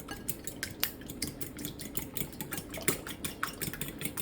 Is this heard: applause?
no